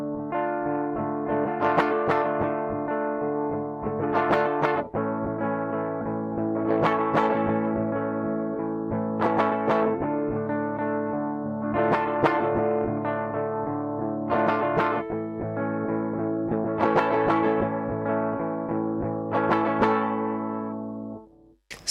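Electric guitar played through a DIY single-transistor compressor pedal, a steady series of evenly spaced strummed chords, each with a sharp attack and a sustained, even ring, close and clear with no talking.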